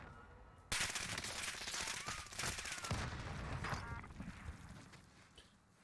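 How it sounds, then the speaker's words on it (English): Rapid bursts of automatic gunfire in the video game Warzone start abruptly and rattle on densely, close and loud, slowly easing off toward the end with a few scattered shots. "Being shot from the left-hand side right now."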